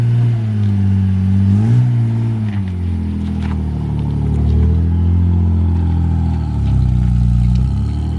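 A car engine revs hard under load, its deep droning note rising and falling with throaty whap-whap pulses, loud and close throughout with some clatter and no talking.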